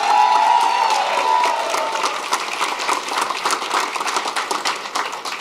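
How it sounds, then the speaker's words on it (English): A large crowd at an election night results event claps and cheers loudly and steadily, the dense noise of hands and voices holding throughout with a brief whistle early on. "Give them a big round of applause."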